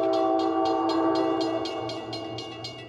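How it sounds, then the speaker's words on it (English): A ghost-train sound effect: train bells clang in a steady, rapid rhythm over a sustained multi-tone train whistle chord, loud and close, easing slightly as it continues. "You'll hear the train bells, and then you'll hear the train whistle as it approaches."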